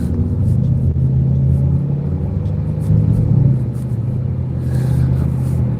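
A car gradually picks up speed on a city street with other traffic around, its engine a steady low rumble from inside the cabin that swells slightly as it accelerates, with no talking.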